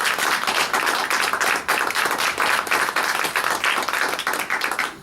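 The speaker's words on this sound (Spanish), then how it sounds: "Dale un aplauso al Señor." Church congregation applauding during a Spanish-language sermon, dense sustained clapping from many hands that fills the whole stretch, loud and steady with brief dips.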